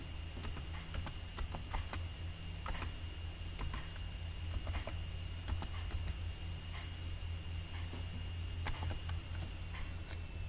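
Keys clatter on a computer keyboard as an Aadhaar number is typed into a registration portal, with quick clusters of clicks and short pauses over a steady low hum.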